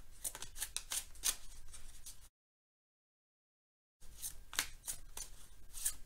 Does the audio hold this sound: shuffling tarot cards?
yes